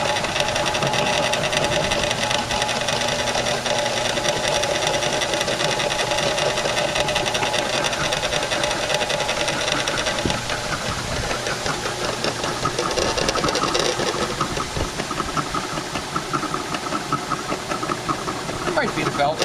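Old drill press motor running continuously with a rough, rattling mechanical hum and knocking, steady throughout, while people talk over it.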